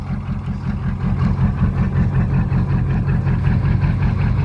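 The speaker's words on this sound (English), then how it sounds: "We only got one minor exhaust leak right around in the back there." A 6.5 diesel engine with a minor exhaust leak idles loudly nearby, a steady low chugging pulse with a rapid, even rhythm throughout.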